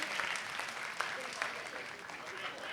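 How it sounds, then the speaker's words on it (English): Faint, distant applause rises from a crowd at an alumni reunion entertainment evening. The clapping is soft and continuous, with murmuring voices mixed in. "Can we give them another round of applause, please, for the batch of 7980?"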